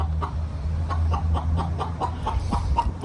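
Chickens cluck close by in a small barn in short, repeated bursts over a low, steady background hum.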